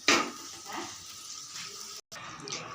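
Potato curry boiling in a pan after water was poured in, a steady bubbling hiss and sizzle held close throughout, with a brief cut near the end.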